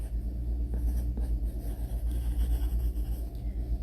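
Pencil tracing words on a paper worksheet, a steady scratchy writing sound running continuously over a low background rumble, close and moderately loud.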